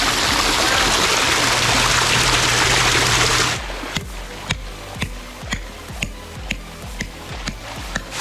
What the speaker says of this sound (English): Looks like someone likes the bubbling rock feature.